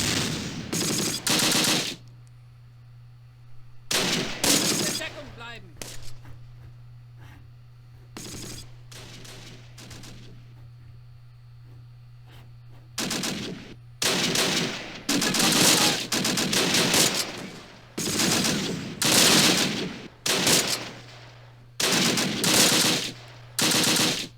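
In the Close Combat World War II strategy game, troops fire on an enemy team in repeated loud bursts of machine-gun and rifle fire separated by short pauses, over a steady low hum.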